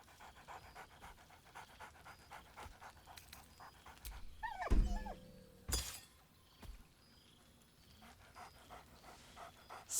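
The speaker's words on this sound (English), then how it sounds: "Scratch barks merrily in something like agreement." Scratch, a dog in the game Baldur's Gate 3, pants steadily for the whole stretch. A single sharp bark cuts in near the middle, over a soft game ambience.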